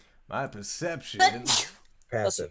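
A single sharp sneeze bursts out between bits of speech during a tabletop role-playing game, with people talking before and after it.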